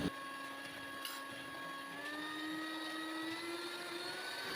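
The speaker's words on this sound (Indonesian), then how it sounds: "ini adonannya di mixer selama 5-7 menit" An electric mixer beats steamed sponge cake batter with a steady high whine, its tone climbing gradually from low to higher speed, moderately loud and continuous, with no voices.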